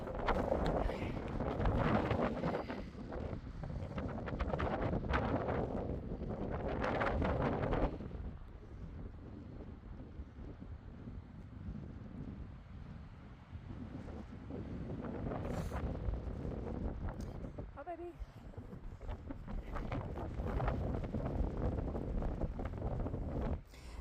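Strong wind buffets the microphone on an open mountain summit, roaring loudly for the first eight seconds, easing to a lower steady rush, then gusting hard again toward the end, with no talking.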